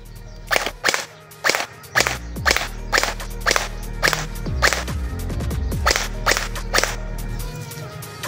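Bohan MK8 v2 blaster, internally upgraded, fired outdoors in single shots: about a dozen sharp, close pops in an irregular rhythm over a low steady hum.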